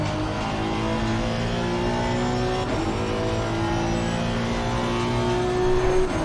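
A race car engine in a racing video game holds a steady, loud, buzzing drone at high revs throughout, with slight pitch shifts and no talking.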